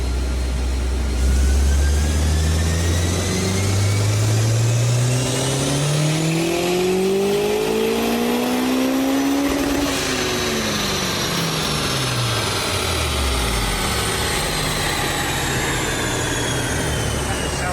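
A Honda S2000 engine on a dyno screams through a four-gear pull. Each gear rises in pitch to a high wail and then drops at the shift, loud and close, with the tone falling as it winds down at the end.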